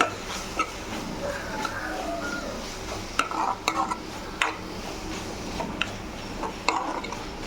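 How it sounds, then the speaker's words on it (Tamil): Gram flour roasting in a pan as it is stirred for a green peas and potato gravy, with steady soft sizzling and repeated spoon scrapes and taps against the pan, close and continuous, with no talking. "ஒரு டீஸ்பூன் கடலை மாவு ஒரு அதையும் வறுத்திக்கலாம்"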